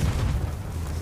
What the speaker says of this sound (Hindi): मैं इनको मार रहा हूँ तोप गोले से।